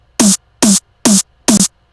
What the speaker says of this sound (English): the final sample sounds like this